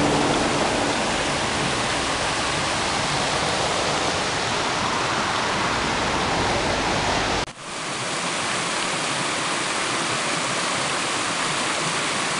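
A small mountain stream rushes and burbles close by in a steady, loud wash of water. The sound briefly drops out and then resumes just as strongly.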